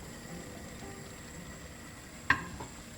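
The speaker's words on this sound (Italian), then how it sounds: "Con un cucchiaio di legno spostate la carne al centro della pentola e osservate il fondo" Meat for ragù alla bolognese sizzles softly in a pot while a wooden spoon stirs, with one sharp knock against the pan near the end.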